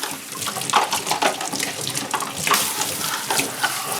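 Water from a sprayer splashing steadily against a carpet cleaner's tank, close by, with continuous hiss and small bursts of splatter throughout.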